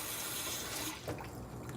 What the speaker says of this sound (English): but the water is very loud